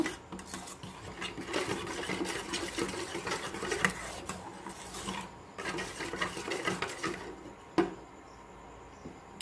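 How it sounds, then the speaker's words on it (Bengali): Spice paste with sugar and mustard oil is worked together in a bowl, making close, busy rubbing and scraping with irregular bursts and brief pauses, plus one sharp knock near the end. "এবার আমি মশলাটা ভালোভাবে মিশিয়ে নেব"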